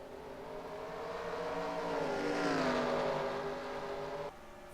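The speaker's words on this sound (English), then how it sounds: "Short track racing under the lights." Race cars in a FAST Renegade Pro Cup Series event roar around a short oval track at night in Nashville, a steady loud engine drone that swells as the pack passes close, then drops off abruptly near the end.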